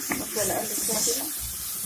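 Peas and meat are stirred together in a pot, giving soft scraping and a light sizzle over nearly two seconds, with a faint voice in the background.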